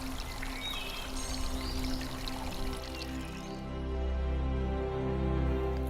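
Water pours from a tap in a steady, full stream, at first mixed with faint birdsong and background sound, then growing heavier and more rushing in the latter half, with no one speaking.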